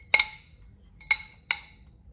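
Three separate clinks of a utensil against a bowl while almond butter mixture is stirred in, spaced about a second apart, bright and close, with no one speaking.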